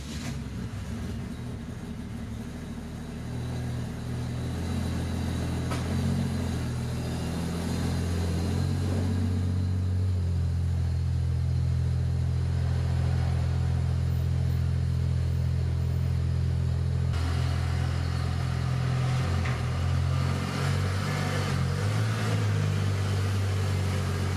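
Turbo Ford Falcon car being moved in, a steady low engine rumble that holds throughout at moderate level, shifting slightly in pitch, with no talking.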